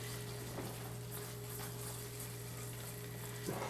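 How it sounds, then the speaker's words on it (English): Steady, close sizzling of a light blonde roux cooking in a pan with mushrooms, a continuous crackling hiss with a low hum underneath and a faint clink near the end. "we're going to let it sizzle"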